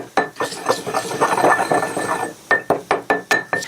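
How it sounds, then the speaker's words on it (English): A pestle works garlic and salt in a mortar, first with a gritty grinding scrape, then a run of sharp, evenly spaced pounding knocks close up. "So I just add a garlic clove to the mortar and pestle and a little bit of salt."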